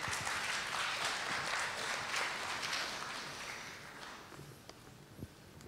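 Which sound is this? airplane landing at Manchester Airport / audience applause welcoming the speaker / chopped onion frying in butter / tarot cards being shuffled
audience applause welcoming the speaker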